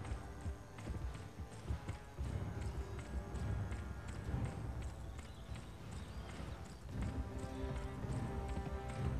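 A horse gallops in the western video game Gun, rapid rhythmic hoofbeats pounding close and loud over game music and ambience, with a brief whinny.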